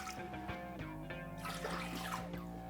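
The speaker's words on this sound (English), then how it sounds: "I'm just gonna add 2 cups of water, just to be safe" Two cups of water poured into a pot for steaming, a faint steady trickle and splash with ringing tones as the water fills the vessel, quiet and close.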